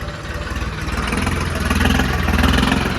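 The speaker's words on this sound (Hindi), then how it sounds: "चल दिए भाई ट्रैक्टर लेकर।" A tractor fitted with 18.4-30 BKT rear tyres pulls away, its engine a steady close rumble that grows slightly louder and fuller as it drives off.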